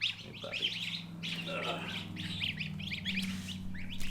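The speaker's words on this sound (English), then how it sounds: "So these are white Chinese geese." White Chinese geese call with a scatter of honks and chirpy cries over a low steady hum, several birds fairly close across a few seconds.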